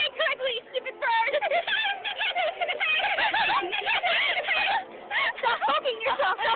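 A talking pet bird vocalizing in a run of warbling, speech-like chatter and coos, close and fairly loud, filling the whole stretch with short varied phrases and brief pauses.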